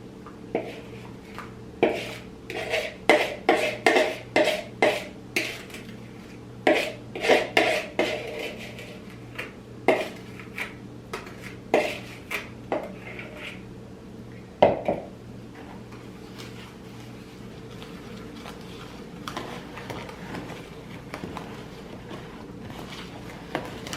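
Batter for a winter dessert being mixed in a bowl, with a quick irregular series of close utensil scrapes and clinks against the bowl, busier at first and then thinning out into sparse taps.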